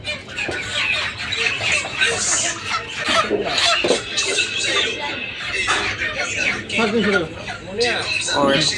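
Chickens cluck and squawk in a busy poultry shop while several people talk loudly nearby.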